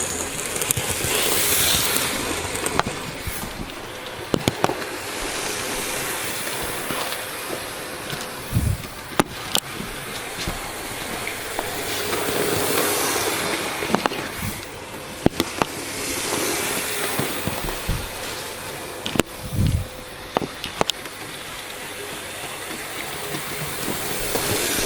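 A Hornby LMS Stanier 4P model locomotive runs past on track, with steady rolling rumble, sharp rhythmic clicks at rail joints and swells as it approaches and recedes, heard without any talk.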